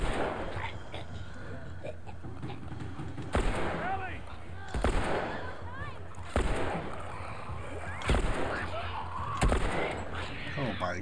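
Gunfire in The Last of Us Remastered: several sharp, loud shots spaced a second or so apart, punching through a dense, noisy game soundscape while voices talk.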